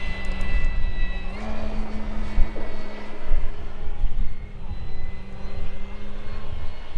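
An E-flite T-28 Carbon-Z model airplane's motor whines steadily overhead, its pitch shifting as it flies past, with faint outdoor background noise.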